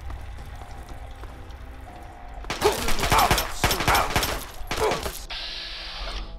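Gunfire in the video game Fallout 3, several loud close bursts of shots in quick succession after a quiet ambient stretch, with no talk over them.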